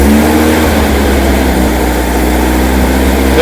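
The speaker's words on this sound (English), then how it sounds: "So give it a bit of a rev." The engine of a Formula Vee race car is revved, giving a loud, steady, rough mechanical drone that holds close and constant, with no talking over it.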